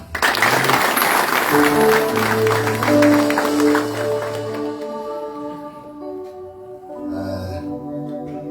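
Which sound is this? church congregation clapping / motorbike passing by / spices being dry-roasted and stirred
church congregation clapping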